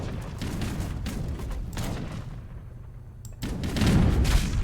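Cannons fire during an Age of Empires-style strategy match with Ottoman forces, producing a dense, rumbling series of booms and rattling impacts that swells louder toward the end, heard alone without speech.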